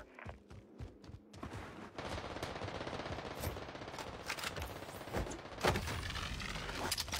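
Rapid automatic gunfire in Apex Legends ranked play rattles almost continuously through the clip, dense and loud, with a few isolated shots at the start.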